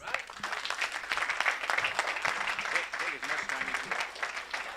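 Dense, continuous applause from a graduation ceremony audience, many hands clapping at once, moderately distant, with voices talking over it.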